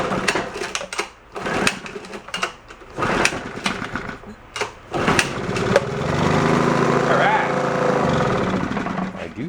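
A free old Kawasaki 550 generator's engine sputters and knocks amid handling noises, then settles into a steady, buzzy running drone; someone talks over the early part.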